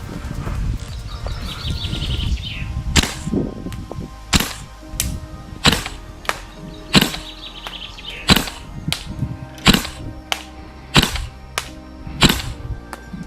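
Umarex HK416A5 Gen 3 gas blowback airsoft rifle fires about a dozen sharp, evenly spaced shots, each crack followed by the clack of the bolt and buffer spring, loud and close.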